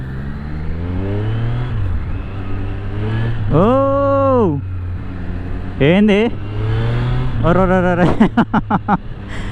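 A Triumph Street Triple 765 RS sport motorcycle engine runs with a steady low drone, rising in bursts as it revs and accelerates, while someone shouts excited exclamations over it.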